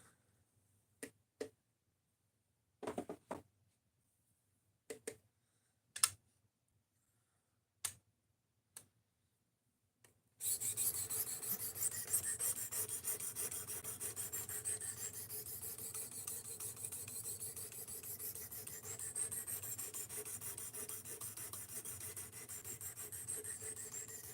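A knife is drawn across the stones of a premium sharpening system. Sparse, sharp ticks and scrapes come first, then a continuous close rasping stroke runs on steadily.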